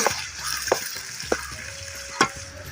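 Onions and tomatoes sautéing in a pan for pepper chicken, a steady close sizzle with a few distinct spatula scrapes and clinks against the pan.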